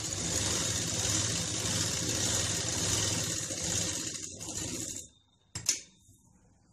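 Sewing machine stitching a blouse with lining, running as one continuous mechanical whir for about five seconds, then stopping, followed by a brief clack and a soft rustle. It is close and steady, with no talk.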